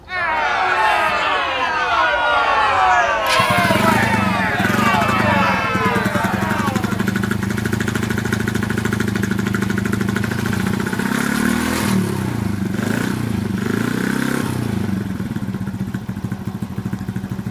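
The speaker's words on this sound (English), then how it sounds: "She should idle." A Peace GS 35 Chinese chopper with a 49cc four-stroke engine settles into a steady, close idle after a brief burst of revving, its low putter running evenly throughout, with a voice audible at the start.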